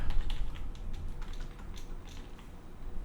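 Fast computer keyboard typing, close up, with a run of quick irregular key clacks that slows slightly toward the end, heard on its own without talk.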